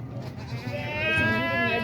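A goat bleats at a livestock market, a drawn-out, wavering cry that swells louder toward the end over a background of crowd murmur.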